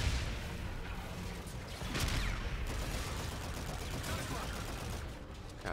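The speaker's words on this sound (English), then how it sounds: "Who's shooting me?" Gunfire and explosions from the Call of Duty Infinite Warfare campaign, a dense, steady barrage of shots and booms, with a player's voice talking over it.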